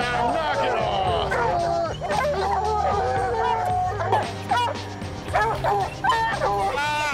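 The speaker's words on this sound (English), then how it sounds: "when a young dog thinks he's treed something he hasn't and gets all the other dogs excited over nothing" Hunting dogs on an Arizona mountain lion hunt barking and yelping excitedly at a falsely treed spot, several dogs calling in overlapping bursts close by, with some crowd-like noise underneath.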